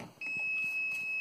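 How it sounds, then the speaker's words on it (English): A Fluke VoltAlert voltage tester held against a live wire gives off a single sustained high-pitched beep, clear and close, lasting about a second. "it's glowing red and making this beeping sound, which is saying, hey, there is live voltage on this wire"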